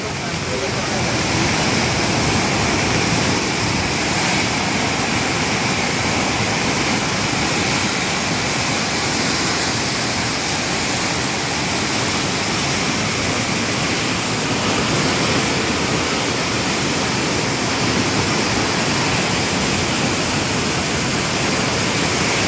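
Floodwater from the Punjab floods rushes over a wall in a loud, steady roar of churning water that stays constant and unbroken throughout, with no pauses.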